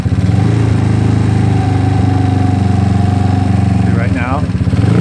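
A GY6 scooter engine fitted with a 30mm carburetor runs steadily near the microphone with a throbbing mid-pitched drone, rising slightly in a brief rev toward the end.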